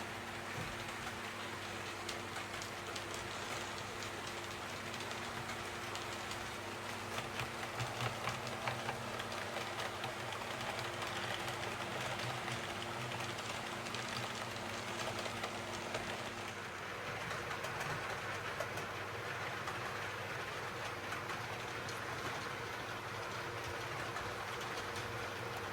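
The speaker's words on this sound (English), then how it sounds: "that 33 powering its way round my railway today" A steady, faint mechanical whir and rattle of a model Class 33 locomotive running on a layout continues throughout, with a hiss of background noise and no talking.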